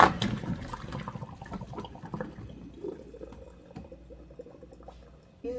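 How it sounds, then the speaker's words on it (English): Boiled unripe plantain and its hot water poured into a sifter in a home kitchen, a close splashing gush that settles into a thinning trickle and drip, with no talk. "the plantain is done boiling, so I am going to pour it in this sifter"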